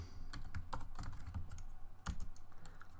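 Keys clatter on a computer keyboard as a terminal command is typed out, an uneven run of close, quick taps and clicks with a heavier thump near the end, and no voices.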